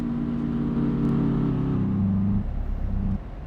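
Trucks and traffic rolling along a road in Euro Truck Simulator 2, a steady loud engine drone with low harmonic hum that shifts pitch and drops off slightly toward the end, no talk.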